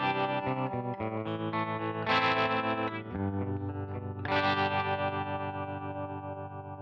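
Distorted electric guitar played through a 1964 Fender Deluxe Reverb amp model, strummed chords ringing with warm drive and a touch of reverb, loud and continuous.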